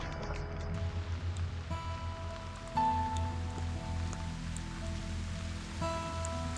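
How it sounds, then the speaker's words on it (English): Rain falls steadily on the ground on a late fall canoe trip, a dense, even patter close by with no voices. "the rain starts hitting a little bit harder"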